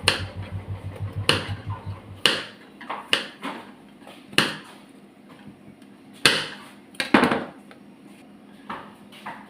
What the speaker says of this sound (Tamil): இந்த பூண்டையும் சின்ன சின்னதாக கட் பண்ணிக்கிடணும்.